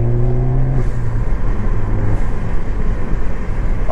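A 2016 Ford Focus ST with the ST3 package accelerates hard, its engine note rising steadily and then turning into a broad, continuous roar, loud and close, with no talk.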